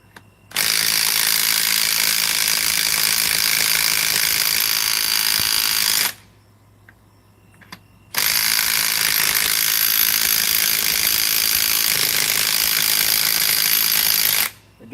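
A stubby impact wrench strains against a 15/16 socket, hammering loudly and continuously in two long bursts separated by a short pause, close up with no talk.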